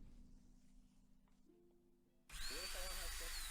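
An electric drill whirs loudly near the end, starting abruptly after a quieter stretch with a low hum, and a voice can be heard faintly alongside the drill.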